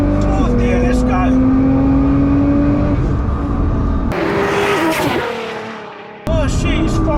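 An 800 wheel-horsepower tuned Nissan GT-R Nismo engine revs hard and climbs through gears on a track straight, each shift marked by a brief drop before the pitch rises again, with a voice talking over it.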